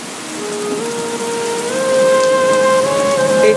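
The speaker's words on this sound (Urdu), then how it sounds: "پانی سے لدے ہوئے بادل ہوائیں اٹھا لیتی ہیں، پھر انہیں کسی مردہ سرزمین کی طرف ہم حرکت دے دیتے ہیں اور وہاں پر بارش برسا کر" Heavy rain falls steadily in a dense, hissing wash that swells slightly louder toward the end. Sustained tones run over it, and no distinct thunder stands out.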